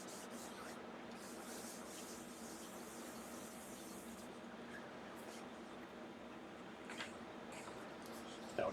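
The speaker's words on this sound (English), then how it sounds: "Now just turn on the lid and burnish in that oil" Oiled wooden lid turning on a lathe while a rag rubs and burnishes the finish in, a steady soft rubbing hiss with continuous friction, faint overall, and a small knock near the end.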